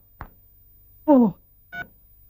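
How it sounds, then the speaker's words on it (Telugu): Three short electronic tones sound one after another, like a phone number being dialed, each a brief beep separated by silence. "ఈసారి నెంబర్ కరెక్ట్ కొట్టాలి."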